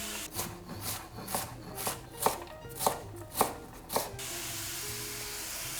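Onion, celery and carrot for a sofrito are diced by knife on a cutting board, about a dozen crisp, evenly spaced chops close up, then the chopping stops, with no talking.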